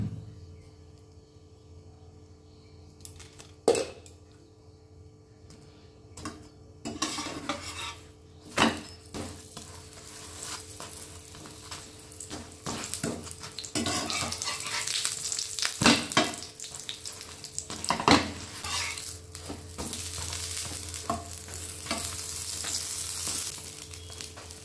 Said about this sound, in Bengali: 4টেকে আমি এখন ভেজে নেব।